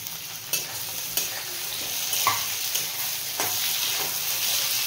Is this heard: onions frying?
yes